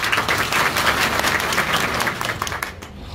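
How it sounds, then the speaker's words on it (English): Steady applause from a crowd, dense clapping filling the whole stretch and easing off slightly at the end. "please round of applause for me"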